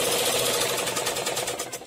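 A sewing machine runs at steady speed, stitching the shoulder seams of a blouse, with a dense, fast mechanical whir and rapid rattle heard close up and uninterrupted.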